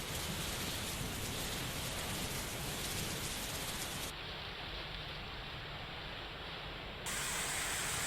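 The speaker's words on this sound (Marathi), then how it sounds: "रात्री आलेला पाऊस जिल्ह्यातील काही भागात सकाळपर्यंत रिमझिम सुरू होता" Overnight rain keeps falling as a steady, dense hiss, even and continuous from start to finish with no voices, the texture shifting slightly partway through.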